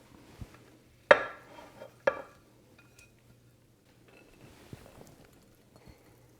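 Dressing being stirred into warm orzo pasta salad in a bowl, with two sharp clinking scrapes and softer wet stirring and shuffling between them. The sounds are quiet and close, with no talk.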